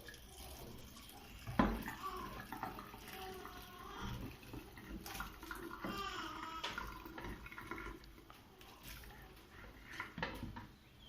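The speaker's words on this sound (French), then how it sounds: "Je prends ça, ma casserole, je ramène ici et que bien évidemment, tout doucement, je verse." Water poured slowly from a saucepan while cooking noodles in a home kitchen, a soft continuous trickle and splash of moderate loudness with a brief sharper splash early on, no talking.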